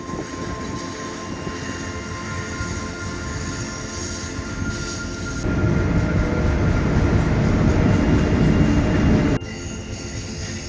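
A train in Alaska rumbles past steadily going round a bend, growing louder midway as wheels grind and squeal on the rails, then easing back to a lower rumble.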